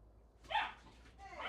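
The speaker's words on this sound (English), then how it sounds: "and our dogs are fighting." Dogs fighting let out a short, near bark or yip, followed by a second, fainter one a moment later.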